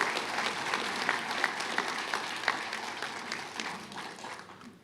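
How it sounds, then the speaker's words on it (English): An audience at a Ponca Tribe of Nebraska Restoration Day celebration claps after a flag song and honor song, dense sustained applause from a crowd that fades slightly toward the end. "Let's give them a round of applause for that flag song and that honor song."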